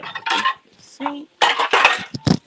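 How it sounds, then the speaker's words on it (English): Dishes being moved and set into a kitchen sink, several loud clattering bursts of plates and cutlery close by, separated by brief pauses. "I know y'all hear me moving dishes. I'm putting some dishes in the sink."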